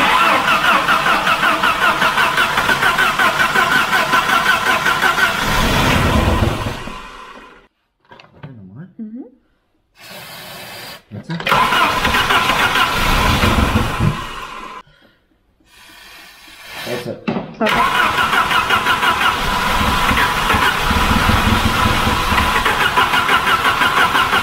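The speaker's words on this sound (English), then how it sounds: "let's see if this thing will fire up" An old Volvo 740 that sat ten years in storage cranking and catching, loud and close, running rough then cutting out, with silent gaps and repeated start attempts before it runs steadily again, people talking in between.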